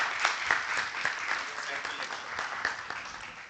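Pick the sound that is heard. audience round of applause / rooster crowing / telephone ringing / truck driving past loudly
audience round of applause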